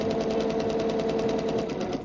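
A sewing machine stitches a quilt seam, a steady, fast mechanical whirring with an even needle rhythm running close and continuous throughout.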